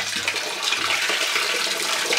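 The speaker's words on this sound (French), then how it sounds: "Moi je les plonge dans l'eau froide." Boiled eggs being dropped into cold water, giving a steady close watery wash and splashing that fills the short moment alone, with no voices.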